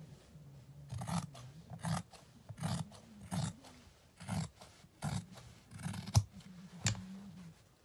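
Fabric scissors cutting cloth for a circle skirt, a steady series of crisp, close snips in an uneven rhythm with no voice.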